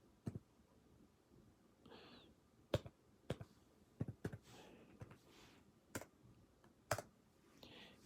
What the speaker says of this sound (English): If you want to type in Phillips' last name,